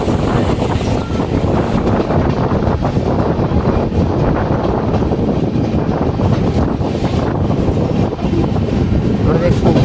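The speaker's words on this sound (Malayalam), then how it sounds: "കുപ്പം റെയിൽവേ സ്റ്റേഷനിലേക്ക് കയറിക്കൊണ്ടിരിക്കുകയാണ് കേട്ടോ." The Uday double-decker express from KSR Bangalore to Coimbatore rolls into Kuppam railway station, heard from on board as a loud, continuous low rumble and rattle mixed with heavy wind noise throughout.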